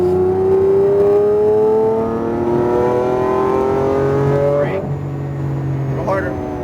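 A Lamborghini Aventador accelerates hard on a racetrack, its engine note climbing steadily through the revs with a brief gear change, loud and close, while an instructor talks over it.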